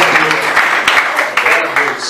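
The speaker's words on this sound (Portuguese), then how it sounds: "você pode, mais uma vez, aplaudir o Senhor" A church congregation at a Wednesday worship service claps together, a dense, steady wash of applause close by, with a voice speaking over it.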